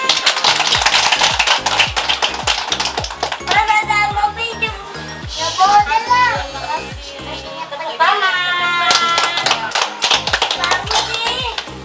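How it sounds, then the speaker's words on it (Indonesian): Clapping hands from an audience at a children's award announcement, sharp rhythmic claps with children's voices and chatter over them, loud and close. "Tepuk tangan."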